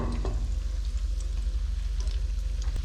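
Kadhi pakoras fry in a pan with a dense, continuous sizzle and faint crackles, close and steady throughout with no voices.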